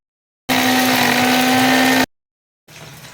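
A mixer grinder whirs loud and close as it grinds yellow mustard seeds, ginger and green chillies, running about one and a half seconds in a steady high whine before cutting off, then a quieter short run after a pause.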